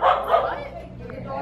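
A small dog yips and barks briefly at close range at a hometown parade, while people chatter around it.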